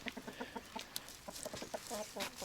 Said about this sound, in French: celui-là, il combat peut-être pas, mais c'est coq combat, ça